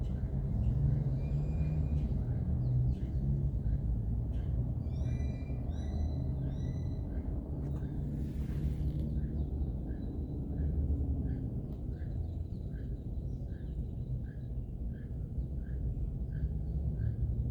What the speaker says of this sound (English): I can hear the toucan is here.